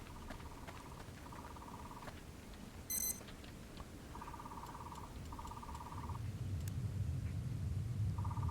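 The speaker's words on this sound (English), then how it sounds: "It said it would beep for sound recording." An electronic device sends out short bursts of rapid, high beeping in a repeating pattern. Each burst lasts about a second and is set apart by gaps. A brief higher chirp appears partway through, over a low outdoor rumble.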